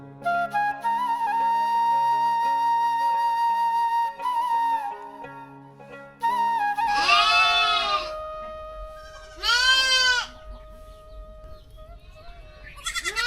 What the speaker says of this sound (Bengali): বেশ কিছু ছাগল ছানা এই মালিকের সাথে খুনসুটি করছে